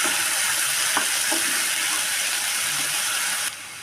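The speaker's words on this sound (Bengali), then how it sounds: "মশলাটা দিয়ে ভালো করে নাড়তে থাকবো।" Spice paste stirred into reddish frying onions in a pan for potato and pointed gourd korma, a dense continuous sizzle with a few faint scraping strokes underneath, close and loud, cutting off abruptly near the end.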